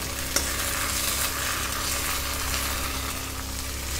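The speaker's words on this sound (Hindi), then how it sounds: "अदरक लहसुन का पेस्ट हम इसमें ऐड करके और फिर इसको अच्छे से मिक्स कर लेंगे" Ginger-garlic paste is being stirred in a pan for bhindi masala, a steady sizzle and scraping spatula texture running continuously throughout, with one small sharp knock near the start and no speech.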